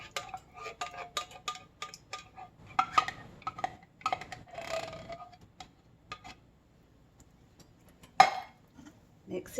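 A utensil scrapes and clicks against a pot while Fiesta cheese soup is mixed into taco mac, producing irregular close taps and clinks with short pauses and one louder knock near the end.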